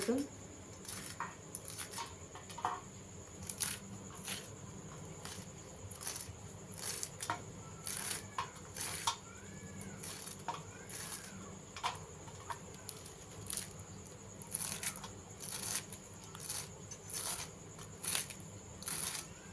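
A knife finely chops Malabar spinach (pui shak) leaves on a cutting board, a steady run of quick, crisp taps continuing throughout, close and moderately quiet, with faint background noise.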